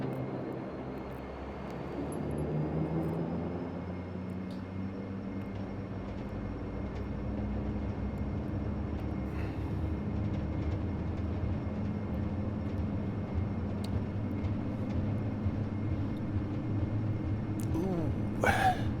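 A simulated DHC-8 Q400 turboprop rolls for takeoff with a steady droning engine roar and rising propeller tone that builds over the run, while people talk intermittently over it.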